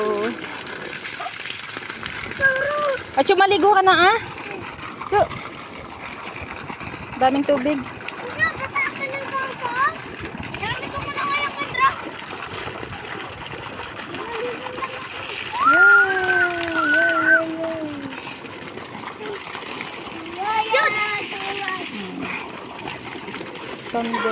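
Children bathe outdoors in water from a solar-powered pump, splashing repeatedly in bursts while their high voices shout and chatter throughout, close and lively.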